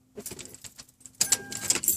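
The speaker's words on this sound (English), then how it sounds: "If I go ahead and take the keys, shut the car off" Car keys jangle as they are pulled from the ignition of a 2007 Toyota Sienna minivan to shut it off, a brief metallic rattle that grows louder and busier toward the end, close by.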